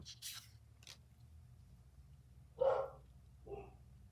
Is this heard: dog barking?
yes